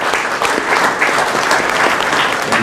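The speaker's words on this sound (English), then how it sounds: "Give yourself a round of applause for that." Loud, steady applause from a banquet audience at a fire department sports night, dense clapping filling the room without a break.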